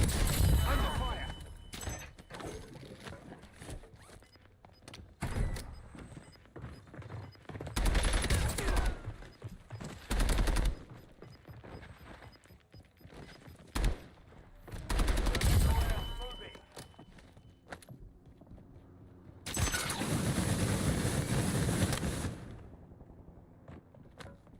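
Gunfire in Black Ops Royale: several separate loud bursts of rapid shooting spaced across the stretch, with quieter game ambience and occasional talk between them.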